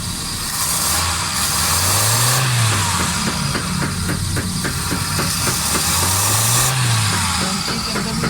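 A Suzuki Alto 1000cc engine with a fuel fault idles roughly nearby, revving up twice with a rising and falling whine amid a steady mechanical rattle and hiss.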